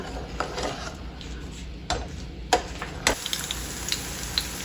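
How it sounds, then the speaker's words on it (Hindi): Pakoras frying in hot oil for kadhi pakora, a steady close sizzle and crackle with occasional spoon or utensil clinks against the pan. "अब पकोड़े बनाना शुरू करते हैं। कढ़ी हमारी तैयार हो गई है, तो अब इसमें पकोड़े फ्राई करके डालेंगे।"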